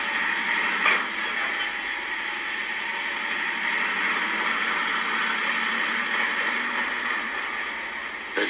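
Two diesel locomotives rumble steadily close by in a railway setting, a continuous engine drone with faint mechanical clanks and a brief bump near the start and end as the buffering happens.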